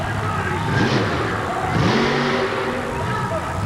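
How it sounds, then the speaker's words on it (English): A supercharged alcohol-burning pulling truck engine roars and revs loudly at a 1988 truck pull in Kansas City, surging up twice in quick bursts over a constant rumbling growl, close by with crowd noise beneath. "Listen to the sound of that engine, a supercharged alcohol burner."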